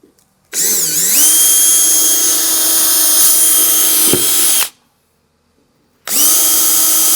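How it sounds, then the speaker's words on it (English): A power drill whines loudly at high speed for about four seconds while pre-drilling holes during an RV slide topper installation, stops, then starts again after a short pause; no talking. "I'm going to finish pre-drilling"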